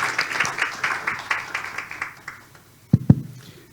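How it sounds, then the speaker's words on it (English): Audience at a circular economy conference applauds its speakers with a brief patter of clapping that thins and fades, followed by two louder thumps near the end. "applause for our speakers"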